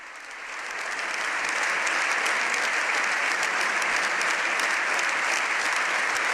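Sustained, loud applause from a large audience of deputies fills the Spanish Congress of Deputies in Madrid, swelling in the first second and then holding steady and dense throughout, with no voices over it.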